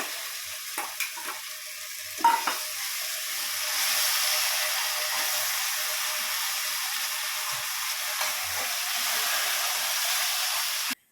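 Food sizzles and hisses steadily in a hot wok, with a few clinks of a spatula stirring at the start.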